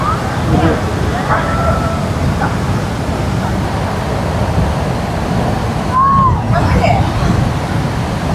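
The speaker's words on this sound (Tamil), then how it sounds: "வாவ், மிகப்பெரிய அருவிங்க. நல்லா சாரல் அடிக்குது இங்கேருந்து பார்க்கும்போது." Athirappilly waterfall in Kerala roaring with spray, a loud constant rushing wash close by, with visitors' voices and crowd chatter scattered over it.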